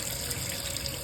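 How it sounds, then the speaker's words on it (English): Tap water runs in a steady, continuous stream into a bowl of rice in a kitchen sink as the grains are washed and strained, close and fairly loud with no talking. "When you're straining your rice or pouring the water out"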